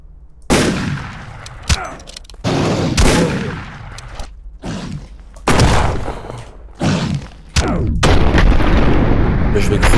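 Bursts of heavy gunfire in the horror game Skinwalker Hunt, loud and close, several separate volleys and booming blasts broken by short gaps.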